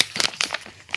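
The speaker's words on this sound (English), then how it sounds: "So it comes in a massive plastic bag, which is a bit odd." A large plastic bag being opened, crinkling in several sharp close rustling bursts for about a second, alone with no speech.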